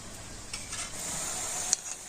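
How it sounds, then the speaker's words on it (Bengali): Filled dahlia-flower pithas fry in oil over low heat, giving a soft steady sizzle and hiss with a couple of light spoon clinks, close and brief. "সমস্ত পিঠেগুলো আমি একেবারে ভেজে নিচ্ছি"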